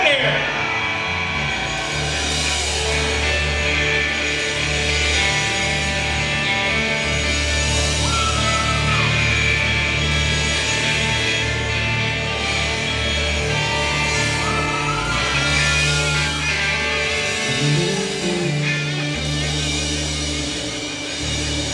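A country band performing live at the grand opening of a bar, a loud, steady wash of amplified music with a deep bass line, mixed with crowd shouts and voices throughout.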